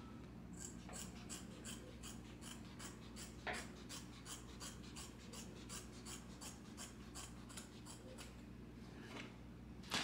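Scissors cut a long fabric strip for a folk skirt waistband, giving a quiet, steady run of rapid rasping snips close by.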